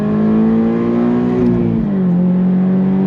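Loud sports car engine, Toyota GR86 or Hyundai Elantra N, revving hard in first gear on a track, a steady rising drone that dips briefly as the pitch shifts, heard close and alone.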